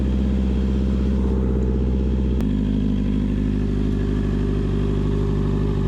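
A 2024 Honda CB650R E-clutch motorcycle engine idles loud and close while warming up, its steady rumble dropping to a lower, smoother idle partway through, with no talk.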